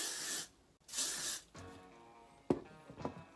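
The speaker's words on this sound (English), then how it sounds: "I'm just going to set that now with some hairspray." Hairspray sprayed onto hair set in rockabilly victory rolls, two close hissing bursts of about half a second each, followed by quieter rustling and handling.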